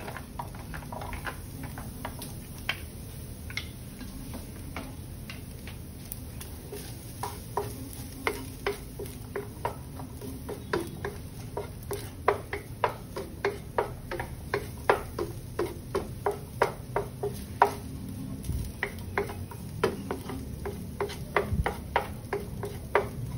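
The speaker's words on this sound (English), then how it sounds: "saute the garlic." Garlic sautéing in a pan for ground beef fried rice, a steady low sizzle punctuated by a regular run of light ticking spatula strokes that grows a bit louder toward the end, with no talking.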